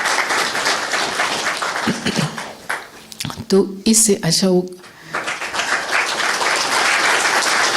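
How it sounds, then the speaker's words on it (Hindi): An audience applauding at a Hindi spiritual talk: loud, dense clapping fills the room, dips while a voice briefly speaks in the middle, then swells again. "ताली बजाइए इनके लिए"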